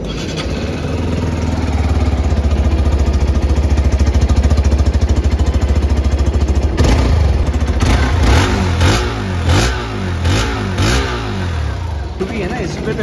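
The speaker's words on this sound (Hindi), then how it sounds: "अब दोनों बाइक्स को ना एक बार मैं स्टार्ट भी कर लेता हूँ ताकि आपको एक एग्जॉस्ट नॉट का डिफरेंस पता चल जाए।" A Hero Xpulse 200 4V motorcycle engine starts and idles with a loud, close, rapid thumping, then blips into a string of sharp revving bursts that rise and fall several times.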